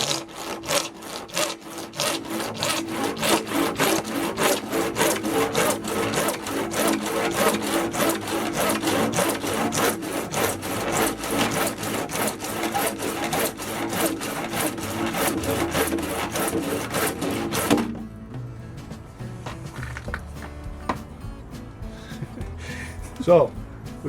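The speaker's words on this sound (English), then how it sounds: "I'm just using a regular Rips handsaw on that just to get her cut" A regular rip handsaw cuts through wood for gold-mining claim markers in fast, even back-and-forth strokes for a long stretch, then stops; a person talks over and after the sawing.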